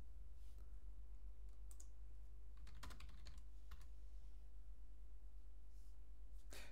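Keys tapped on a computer keyboard during command-line entry on a cPanel server, a few scattered soft clicks in short clusters over a steady low hum, faint and with no one speaking.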